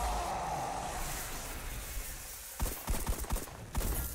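Rapid gunfire from the video game Destiny: The Taken King comes in short bursts of sharp cracks near the end, following a dense wash of game noise and rumble.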